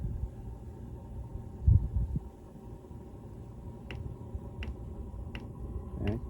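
A diesel heater's fuel pump ticks in a camper, four faint, evenly spaced clicks over a low background hum, preceded by a brief thump.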